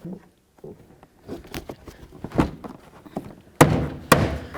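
A plastic interior door panel on a 1999–2007 Ford Super Duty F-250 is knocked down onto the door, giving a few scattered thuds and bumps, the final two sharper and louder, close up with no talk.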